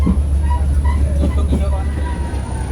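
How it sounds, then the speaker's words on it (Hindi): Kangra Valley heritage railway train rolling into a tunnel, a steady low rumble and rattle of wheels filling the space continuously at close range, with a voice talking faintly over it. "दोस्तों, ट्रेन एक टनल में प्रवेश कर रही है"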